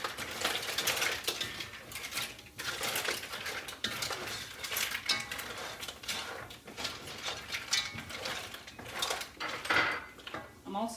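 Mussels stirred in a pot: shells clatter and scrape against the metal in a busy, continuous jumble of clinks and rattles, fairly soft and close.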